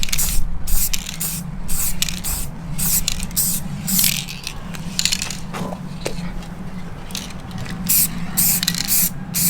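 Spray paint hissing onto a Mk2 Ford Focus ST scuttle panel in gloss black, loud close bursts of aerosol spray starting and stopping in uneven passes, with faint clicks and scrapes between them.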